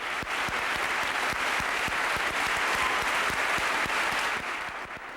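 A church crowd of nearly 1,000 applauding and cheering Jesse Jackson at Westminster Presbyterian Church in Northeast Portland, a dense, loud, continuous roar of clapping that tapers slightly at the end.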